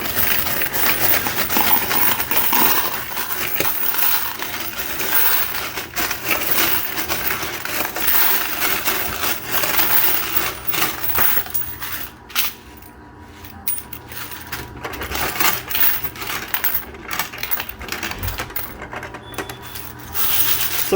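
Coins from a coin pusher machine are scooped and gathered by hand, giving a continuous dense metallic clatter and jingle of many coins up close, with brief lulls and no clear talking.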